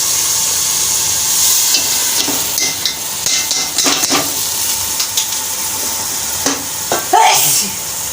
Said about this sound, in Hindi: अब इसको मेथी को अच्छी तरह चला लेंगे